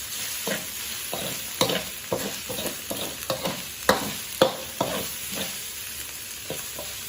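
Shallots stir-fried in a pan for a pumpkin and pork belly dish, with steady sizzling broken by repeated scraping strokes of the spatula, close and fairly loud with no talking.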